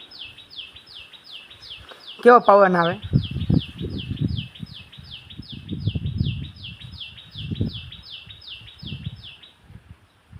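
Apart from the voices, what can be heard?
house sparrow chirping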